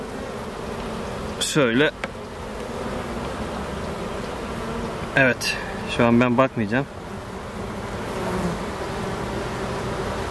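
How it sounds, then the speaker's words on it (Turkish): Continuous buzzing of many honeybees close around a traditional log or basket hive, a steady droning hum, with a few brief spoken words over it. "Arılar gidiyor herhalde yukarı doğru."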